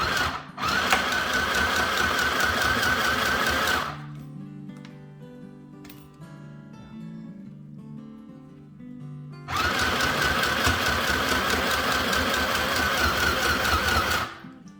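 Sewing machine stitching a grocery tote bag, running in two steady bursts of rapid mechanical whirring, close and loud, separated by a quieter pause with light handling clicks.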